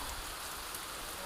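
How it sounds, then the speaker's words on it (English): Heavy rain pours down near Lake Malawi in Malawi, a steady dense hiss of drops on surfaces that stays constant and fills the whole brief moment. "Look at the rain. It's raining a lot."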